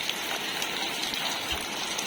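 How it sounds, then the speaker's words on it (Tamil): Heavy rain pours down steadily at night in Chennai during a cyclone, a dense, even hiss of water with no voices over it. "நல்லா மழை பெஞ்சிட்ருக்கு"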